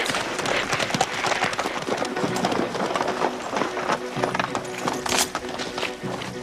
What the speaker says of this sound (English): Why don't we keep the horses?